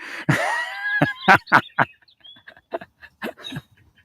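Birds chirp outdoors in short, separate bursts of varied calls, some loud and close and others fainter, with brief quiet gaps between them.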